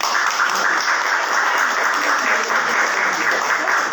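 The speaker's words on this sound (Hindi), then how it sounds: "एक अच्छी सी तालियां बजाओ" Audience at an Excel training session applauding, steady dense clapping held at an even level the whole time.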